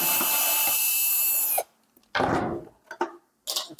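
Screw being driven out of a DeLonghi espresso machine during a repair of a rattling grinder: a steady mechanical whirr of a power screwdriver for about a second and a half, then short scraping and plastic handling noises.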